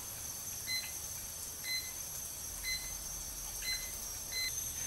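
Water electrolysis machine from Positive Energy (PE 1, 9-plate) sounding short warning beeps after producing acidic water, five paired electronic chirps evenly spaced about a second apart, faint over a steady hum.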